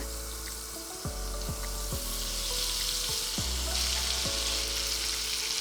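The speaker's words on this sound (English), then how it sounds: "I'm putting in some butter to toast the paneer. I'm adding in the paneer." Paneer toasting in butter in a pan gives a steady, close sizzle, with a few soft spoon clicks and scrapes over the hiss.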